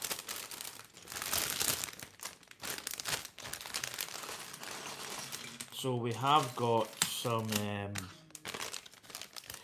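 A plastic bag crinkles and rustles continuously while a Lego set is being built, with someone talking over the handling noise.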